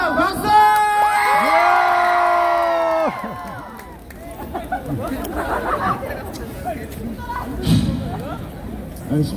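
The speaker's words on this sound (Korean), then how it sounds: "자, 박수!" A street busking crowd in Hongdae claps and cheers after a loud voice rings out, then keeps up lively chatter, whoops and scattered shouts at moderate distance.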